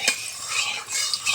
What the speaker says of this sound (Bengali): আমার তেলটা গরম হয়ে গেছে, তেলটাকে একটু নাড়িয়ে দেবো।